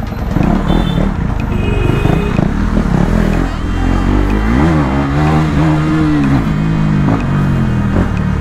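A KTM Duke 390 motorcycle revs hard and pulls through gears on a city street, its close, loud engine note rising and falling in repeated sweeps with no pause.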